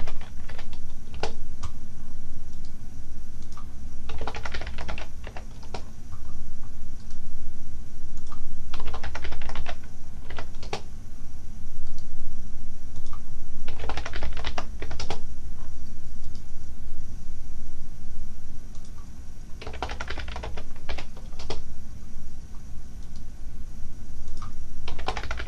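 Fingers tap on a computer keyboard while Excel worksheets are renamed, quick bursts of close keystrokes separated by pauses over a steady low room hum.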